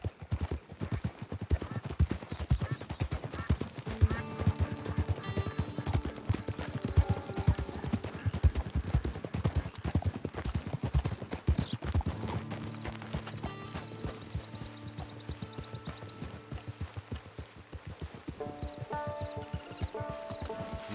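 Horse hooves clip-clopping under a rider in the Red Dead Redemption video game, a fast rhythmic gallop throughout, with game music swelling in partway through.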